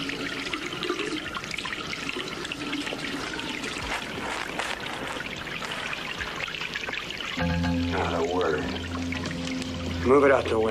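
Shower water runs in a steady, loud indoor hiss that continues for several seconds, then music swells in and a voice is briefly heard near the end.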